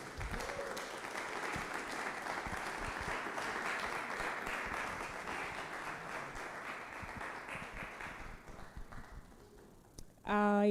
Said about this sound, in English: with a round of applause, help me welcome Dr.